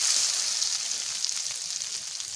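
Ground coriander spice paste hits hot oil in a pan with a bright, continuous sizzle and frying hiss, close and steady with no talk.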